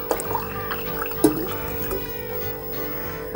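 Chia seeds are poured into hot water, giving a soft, close trickle with a few small drips and clicks against a quiet kitchen background.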